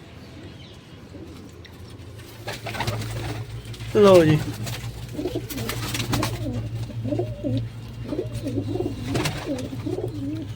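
Pigeons in a coop coo softly and repeatedly in the background, with one louder call partway through, while someone talks nearby.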